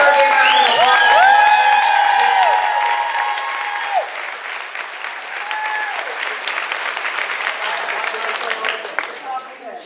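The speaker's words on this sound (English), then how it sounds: "let's give her a big round of applause" Loud, sustained audience applause mixed with cheering and whoops at a pre-conference event. It starts strong and eases slightly while continuing to the end.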